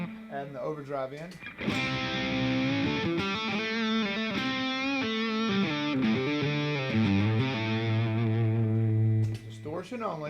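Electric guitar played through an overdrive pedal stacked in front of a distortion pedal, a thick saturated tone of sustained chords and notes ringing continuously for about eight seconds, with a brief voice before the playing starts.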